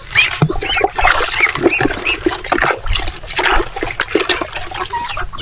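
Water splashes and pours over chickens during a bath, making continuous loud gushing and sloshing, with occasional squawks from the birds mixed in.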